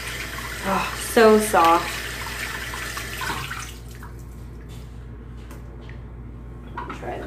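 Running tap water splashes steadily as hands are rinsed at a sink, a close, even wash with a brief spoken remark near the start before the flow thins out.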